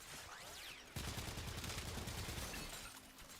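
Shotgun fire in the video game Warframe, a rapid string of blasts that starts abruptly and rattles on for a couple of seconds, faint and somewhat muffled, with no talking.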